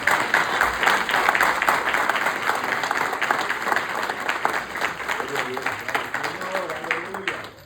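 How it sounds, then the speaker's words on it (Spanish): A church congregation applauds loudly and steadily throughout, a dense wash of clapping with voices mixed in and a faint hum under it, easing off slightly toward the end. "Si el aplauso es para Cristo, déselo fuerte, hermanos."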